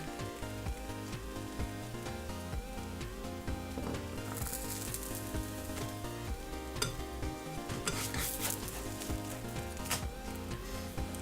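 Grilled cheese sandwich cooking in a pan, with a soft continuous sizzle and scattered scraping and clinking of utensils against the pan, steady and fairly quiet throughout.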